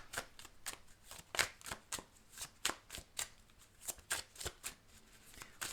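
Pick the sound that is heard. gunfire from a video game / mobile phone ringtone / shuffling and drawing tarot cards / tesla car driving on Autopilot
shuffling and drawing tarot cards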